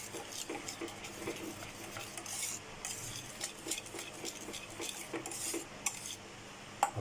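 Cream being whisked into a cheesy Italian pasta sauce in a pot, giving soft, quick metallic clinks and scraping in a busy rhythm with a faint simmer underneath.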